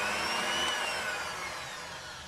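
A whisk spins steadily through galaktoboureko custard, giving a continuous whirring, mechanical drone that holds even and close for about two seconds, with no voices.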